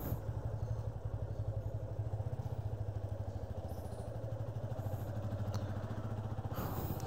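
Motorcycles idle and rev as a group ride sets out from Kolkata toward Digha, a steady pulsing engine chug close by with light clatter, no voices.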